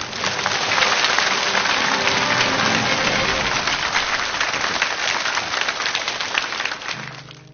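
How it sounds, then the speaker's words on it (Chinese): Sustained applause from a large studio audience on a televised lecture stage, welcoming Professor Rao Yi; dense, steady clapping throughout that fades slightly toward the end. "这掌声欢迎饶毅教授开讲"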